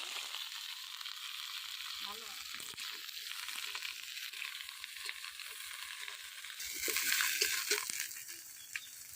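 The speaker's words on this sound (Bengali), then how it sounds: "সবজিগুলো একা একে ভাজে নেবো" Vegetables fry in oil in a village kitchen, a soft, steady sizzle that grows louder and crackles more near the end.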